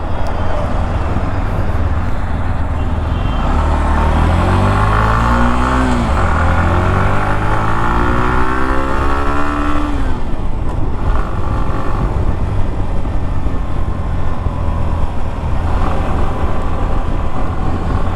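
Hero Glamour X 125 motorcycle riding in third gear, its engine droning close and loud with rising and falling revs over steady road and wind noise.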